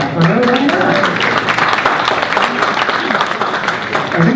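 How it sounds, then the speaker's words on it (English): At a crossword puzzle tournament, a close, dense crowd claps steadily for several seconds while voices carry over the applause. "you can clap for her"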